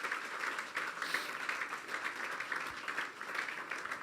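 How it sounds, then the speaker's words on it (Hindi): A church congregation applauds steadily during a sermon, a dense patter of many hands clapping together, moderately distant and fairly quiet, sustained without pause. "जोरदार तालियां बजाएंगे हम यीशु के लिए।"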